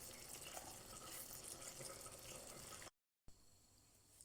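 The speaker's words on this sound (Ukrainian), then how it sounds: "Зливаємо воду від картопельки" Water from boiled potatoes pours steadily and forcefully into a sink, a dense rushing splash, then cuts off briefly before a quieter trickle resumes.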